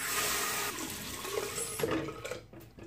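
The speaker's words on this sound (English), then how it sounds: "hot water on my face" Running hot water splashing and being scooped onto a face before a wet shave, a continuous close hiss of water with splashes, tapering off into brief drips.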